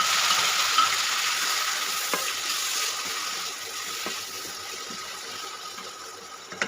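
Chopped tomatoes going into a pan of browned onions frying, giving a steady soft sizzle with faint stirring ticks, fading slightly over several seconds, close and alone without talk.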